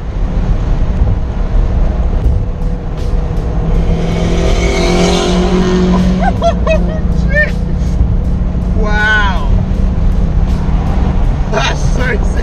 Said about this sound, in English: Oh my God, I just heard turbo noise come from his car.